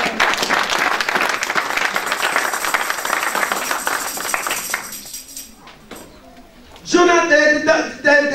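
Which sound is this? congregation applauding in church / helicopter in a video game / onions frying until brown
congregation applauding in church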